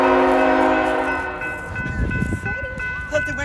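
A BNSF ET44C4 locomotive sounds its horn loudly up close, a long sustained chord that then gives way to rumbling engine and rail noise as the train passes, with people speaking and exclaiming over it.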